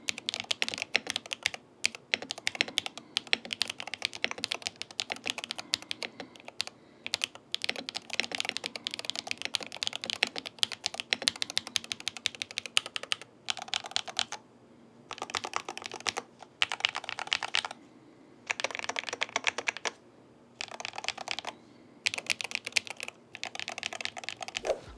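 Rapid typing on a budget keyboard with magnetic switches, close and steady, in bursts broken by brief pauses, with no voices.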